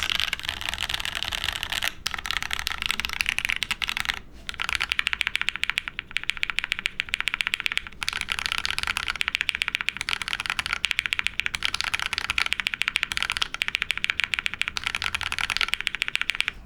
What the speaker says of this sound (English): how can you hate a keyboard that sounds like this?